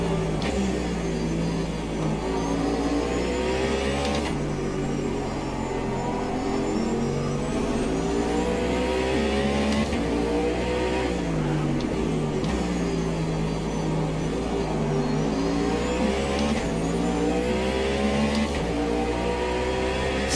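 Race car engines in Automobilista 2 during an IMSA-style race at Interlagos, a steady loud roar with rising and falling revs and gear shifts throughout, several cars close together.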